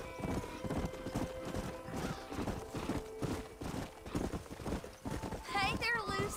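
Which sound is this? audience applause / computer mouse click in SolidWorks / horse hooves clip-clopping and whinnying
horse hooves clip-clopping and whinnying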